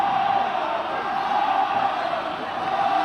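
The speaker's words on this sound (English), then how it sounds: "that Connacht crowd, trying to drive and inspire their team forward" Connacht rugby supporters roaring at a European Challenge Cup semi-final against Toulon, a dense sustained crowd roar with shouts, loud and continuous, a commentator's voice mixed in.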